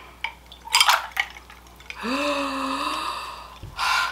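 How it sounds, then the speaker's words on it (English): Water pours into a glass with a rising gurgle, following a few clinks of glassware and a sharp gasp, all close and fairly quiet. "Gonna pour me a little water."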